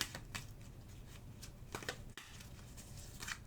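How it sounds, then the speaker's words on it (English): A deck of tarot cards is shuffled up close in a quiet room, with a run of soft, quick riffling flutters and light papery taps in a fairly even rhythm, with no talking. "We're going to shuffle again."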